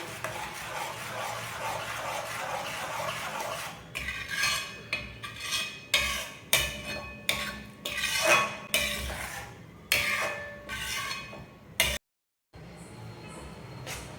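A spoon stirring and scraping a thickening milk cake mixture in a metal pan, rhythmic clinking strokes repeating after a quieter stretch of low sizzling, close and clear with no talk.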